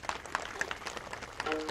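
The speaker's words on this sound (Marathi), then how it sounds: "टाळ्या बाजवा जोरदार यांच्याकडे." Faint, scattered clapping rises from an audience at a devotional gathering at the Shantadevi temple in Gavhan, a loose patter of hand claps heard from a distance without a strong unified burst.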